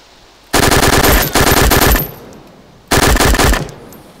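Video game gunfire in two loud, close bursts of rapid automatic shots, the first lasting about a second and a half with a brief gap, then a shorter burst after a pause; no talking over it.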